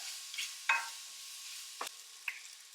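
Garlic frying quietly in a pan, a soft faint sizzle punctuated by a few sharp utensil scrapes and taps.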